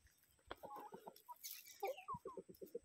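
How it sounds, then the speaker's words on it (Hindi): Free-range desi chickens on a small organic farm cluck in quick, quiet bursts at close range, with several birds calling one after another. One brief louder squawk stands out, and no one speaks. "ये गाइस ये देसी मुर्गी है,"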